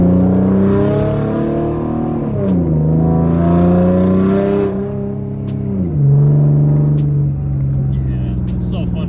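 A V6 Ford Mustang with a dual tip exhaust revs loudly, its engine tone rising and falling through a few throttle blips with a deep, rumbling drone, heard up close.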